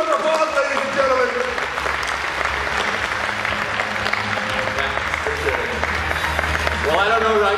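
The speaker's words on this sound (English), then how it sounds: "Let's give a huge round of applause, ladies and gentlemen." Audience applause welcomes a speaker at a business conference talk, steady clapping running throughout beneath music and voices.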